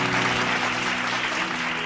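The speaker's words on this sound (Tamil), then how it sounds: "கைத்தட்டுங்க அவருக்கு" A church congregation applauds during a Bible study message, with steady, loud clapping over a faint sustained musical tone.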